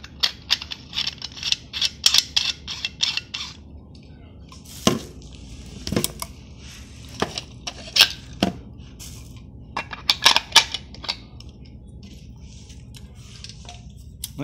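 Plastic paint cup being screwed onto a SATA spray gun via a threaded adapter: a series of sharp plastic clicks, ticks and scraping knocks, close up, in irregular bursts separated by brief quiet gaps.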